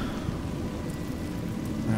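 Steady heavy rain with a deep rumble of thunder underneath, from the video game A Juggler's Tale; a dense, continuous wash of sound with no voices.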